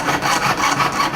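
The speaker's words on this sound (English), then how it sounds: "I'm going to start sawing quicker in that corner" Quick, steady rasping strokes of a small saw blade cutting metal for a small flower concho, close up, several back-and-forth passes in rapid rhythm.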